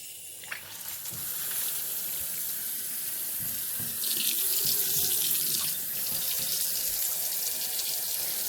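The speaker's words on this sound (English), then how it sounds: "Let's turn on the water and see if it works." A newly installed kitchen sink faucet is turned on and water gushes steadily into the basin, a continuous close splashing hiss with no talk.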